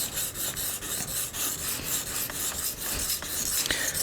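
A Benchmade tanto knife blade is drawn repeatedly across a sharpening stone, rhythmic close rasping strokes at a steady pace, with no talking.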